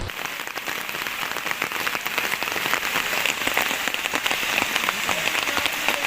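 Steady rain falls on a flooded city street, a dense, even patter of drops hitting water and hard surfaces that stays constant from start to finish with no voices.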